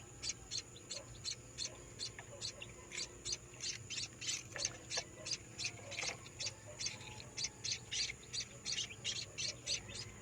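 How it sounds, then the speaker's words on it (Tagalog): A small bird that fell from a tree chirps in a quick, regular series of about twenty short, high calls, faint and fairly close against a quiet room hum. "Yan si Android 14 po. Yun, yung ibon"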